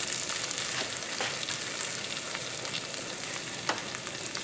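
Zucchini frying in butter in a skillet over a raised flame, giving an even crackling sizzle with frequent small pops and one sharper tap near the end, no voices.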